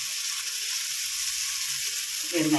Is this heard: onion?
yes